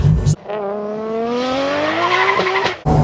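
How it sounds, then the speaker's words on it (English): A Nissan RB25 engine with a big cam in a 1989 S13 Silvia revs hard and holds high, a loud steady rasping drone with slight pitch rise, cut off cleanly at both ends. "An RB25 and a big box and one hell of a cam. Listen to it."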